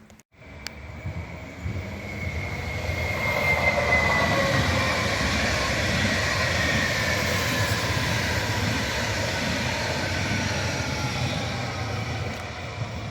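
Two Flirt ER75 electric multiple units on an R2 service to Warszawa Zachodnia passing near the station in Mińsk Mazowiecki, a steady loud rumble of wheels with faint squealing and clicking that builds quickly and holds for the whole stretch.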